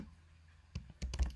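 Computer keyboard keys tapped in a short, irregular burst of clicks, picking up after a quiet pause, close and fairly soft.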